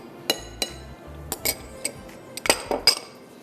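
Lemon juice, oil, tomato paste, salt, black pepper and garlic are mixed in a bowl for a Spanish potato marinade, with a spoon giving scattered light clinks and taps against the dish, close and fairly quiet.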